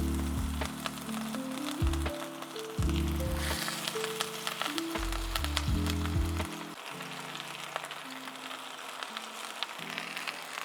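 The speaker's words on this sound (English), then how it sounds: "Just gonna fry up some onion." Onions frying in a pan for adas polo, a soft steady sizzle with small pops and crackles under low sustained music tones.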